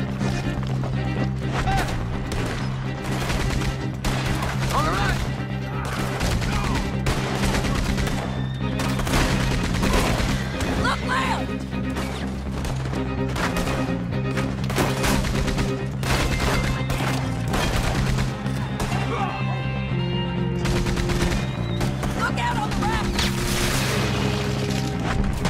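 Dense gunfire in a Red Dead Redemption 2 shootout: rapid, loud overlapping shots and bursts go on throughout, with voices shouting over the firing.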